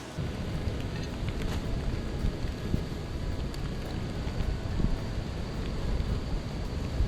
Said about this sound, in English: It's stupidly windy at the moment.